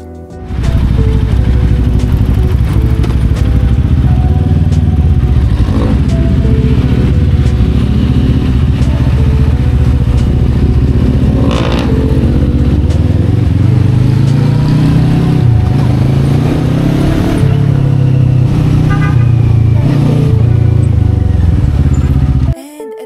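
A Bristol 600cc classic motorcycle ridden at night gives a loud, continuous engine drone with rising and falling revs and steady rumble, heard close throughout.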